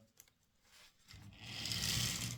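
A small motor whirs up after a quiet start, building into a steady buzzing, grinding hum as a Hornby Dublo Class 28 Co-Bo model locomotive runs under power on track.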